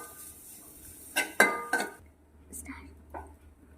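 Crushed coconut paste dropped into hot oil and stirred in a pan, with a few sharp spoon clinks against the metal followed by a soft sizzle and quieter scrapes, heard up close.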